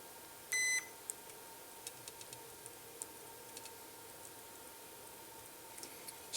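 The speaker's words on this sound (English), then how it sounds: "I'm gonna do some continuity testing here to make sure these aren't bridged." A multimeter continuity test on a Eurorack mute module kit gives one short, clear electronic beep near the start, followed by faint scattered ticks and clicks in a quiet room.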